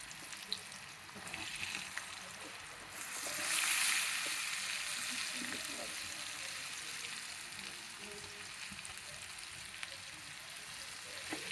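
Peanut pakodi batter fries in hot oil with a soft, steady sizzle that swells briefly as more batter drops in, then settles to a quiet bubbling hiss.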